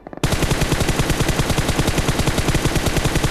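Automatic gunfire in the mobile battle-royale game BGMI: after a few quiet taps, a loud, close burst of rapid shots hammers on steadily and evenly with no gaps or voices.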